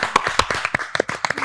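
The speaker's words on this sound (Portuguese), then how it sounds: "Palmas aí para as mulheres." A few people clap in quick, uneven rhythm for a moment, close and lively.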